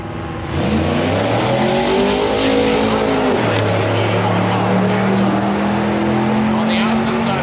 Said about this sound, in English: The Chevy pickup truck comes up next,